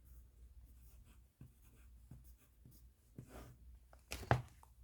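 A pen or pencil scratches on paper while a vertical addition problem is written out, quiet soft strokes ending in a brief sharper scrape.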